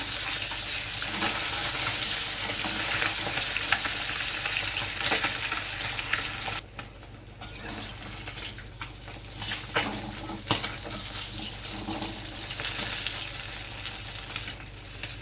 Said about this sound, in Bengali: মাছগুলো আমি উল্টে দিচ্ছি।